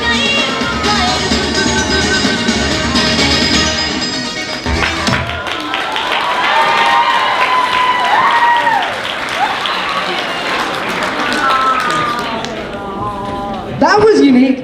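Sustained applause and clapping from an anime convention crowd after a stage performance, loud and continuous for most of the stretch, with cheering voices and someone speaking over it near the end.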